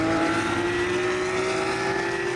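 Race cars at a racetrack roar loud and steady, a single sustained engine drone holding its pitch, with no voices.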